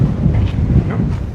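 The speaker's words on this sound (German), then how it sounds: "Der Wind, der pfeift so dermaßen in den Ohren" Strong coastal wind buffeting the microphone in the Shark Bay region, a loud continuous low rumble with gusty swells and no break throughout.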